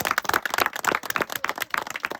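Schoolchildren on a science excursion clap together to thank their hosts, a dense, brisk burst of many hands applauding close by for a couple of seconds.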